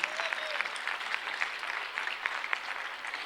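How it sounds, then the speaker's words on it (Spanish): A church congregation claps continuously throughout, a dense, steady patter of many hands at moderate distance, with faint voices beneath. "Denle un fuerte aplauso al Señor ahí"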